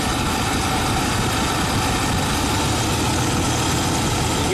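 A 1997 Ford F150 engine idles steadily with a low, continuous rumble and hum, heard close and alone with no voices, its pitch staying fairly even as the RPMs are raised.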